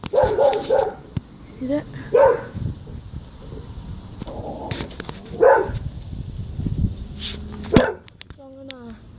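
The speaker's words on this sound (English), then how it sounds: "Dog next door keeps yelling at my dog." A neighbouring dog barks repeatedly in sharp bursts from close range over a fence at another dog, with people talking over and between the barks.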